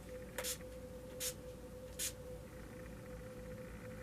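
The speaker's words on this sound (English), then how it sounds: "this is just some face spray for next" Short bursts of face mist from a pump bottle, three quick sprays spaced about a second apart, close and crisp over a quiet room with a faint steady hum.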